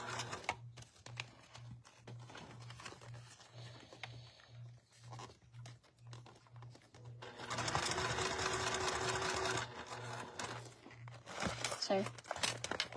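A sewing machine top-stitches around a clear vinyl cube about 8.5 inches across, with a rapid, steady needle rhythm running close and clear under a woman's speech, followed by crinkling as the bulky vinyl is handled.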